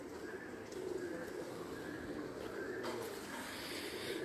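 Soft, low cooing from breeder pigeons kept in a rooftop loft in Saham, Oman repeats steadily over a dull background hum, fairly quiet and continuous.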